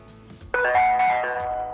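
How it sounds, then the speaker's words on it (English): A cheap WiFi security camera plays its setup chime, a clear bright electronic ding with ringing tonal overtones that sustains and fades, close and alone. "Once you hear the chime, click Next"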